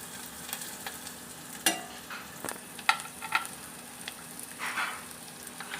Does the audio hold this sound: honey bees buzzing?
no